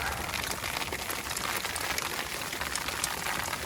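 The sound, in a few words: hail and rain falling outside an RV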